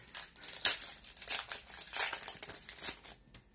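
Crinkly wrapper of a Pokémon card booster pack torn open close up, a quick run of crackling rips and crumples, with no talking.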